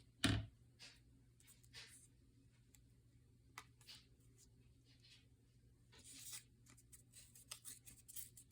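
Scissors cut through paper while a junk journal page is trimmed down by about half, heard as a few faint, scattered snips and rustles in a quiet room.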